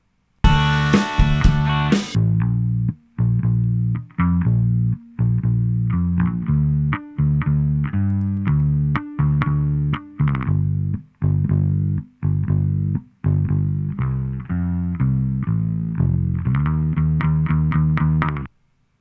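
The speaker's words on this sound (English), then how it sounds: "I'm applying a lot of distortion here, both using the distortion circuit and also the tape itself using the saturation control" Electric bass pushed through a MIA Laboratories 413 Tape Saturator plugin, with heavy distortion from both its distortion circuit and tape saturation, plays a loud, gritty, rhythmic bass line of short repeated notes throughout.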